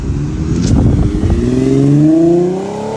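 Infiniti G37 with a muffler delete revving, a loud raw exhaust blare that rises steadily in pitch over a few seconds, heard up close with no talking.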